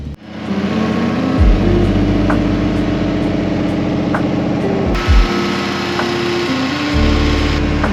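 A BMW E46 328i fitted with a turbo idles while warming up, a steady close-up engine hum with a whiny high-pitched tone above it and a few brief dips and surges in the idle, with no talk.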